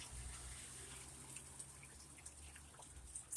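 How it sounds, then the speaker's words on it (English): Rain falling on a street after a sudden shower on a hot sunny day, a soft steady patter and trickle of running water with scattered drips, faint and fairly distant, with a low rumble underneath. "started raining again"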